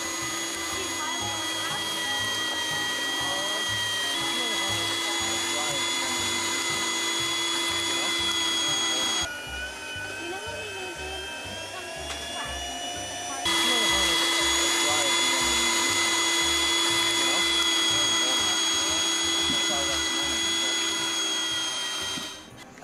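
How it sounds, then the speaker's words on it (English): A tomato press machine separates pulp, seeds and sauce with a continuous electric motor whine; the drone dips quieter for a few seconds midway, then returns at full strength until it cuts off at the end. "The pulp is run through the machine 3 times to extract every last drop of sauce."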